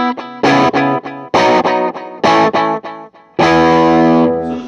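Distorted electric guitar through a Revelation Tone Factory effects loop with delay plays loud, crunchy chord stabs in choppy bursts, ending on a long sustained chord, close and without talking.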